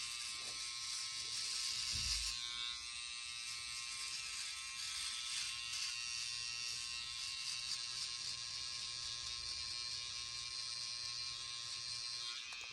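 An electric trimmer buzzing steadily while shaving a mustache and goatee, a continuous close whir with a brief bump near the start and no speech.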